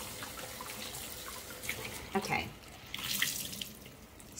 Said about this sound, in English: carefully just rinse this out a little bit. Just a little bit of the suds.